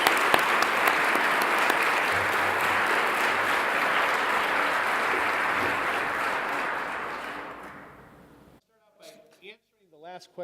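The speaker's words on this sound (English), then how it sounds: "I'd just like to have one more round of applause for" A symposium audience gives Alice Marie Johnson a sustained round of applause that fades out around eight seconds, followed by a brief moment of a person speaking close to the microphone.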